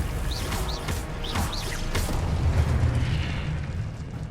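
Booming blasts from the Confringo fire spell in Hogwarts Legacy, a few heavy impacts followed by a sustained rumbling roar, loud and close, with no voices.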